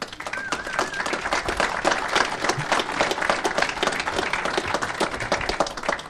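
An audience claps and applauds steadily for several seconds, a dense, even patter of many hands with no voices above it.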